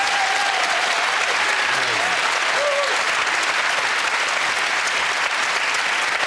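Studio audience at a comedy panel game applauding, sustained and loud clapping with brief tonal voice fragments and laughter faintly woven in early on.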